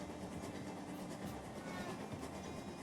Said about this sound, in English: Get the train a-going